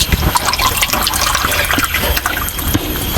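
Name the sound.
pouring drinking water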